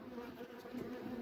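Honeybees buzz steadily during a beehive inspection, a faint continuous droning hum from many insects close by, with no talk.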